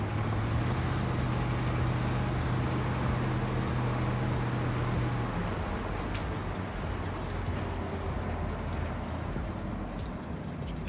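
A rare Mercury Montclair, back on the road after 40 years, driving along with a steady engine hum and broad road rumble heard from inside the car, no talk in this stretch.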